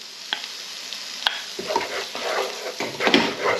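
Tomatoes with garlic and chilli paste frying in a pan for aloo gobi curry, a loud close sizzle rising and falling as they are stirred, with occasional spoon clinks and no talking.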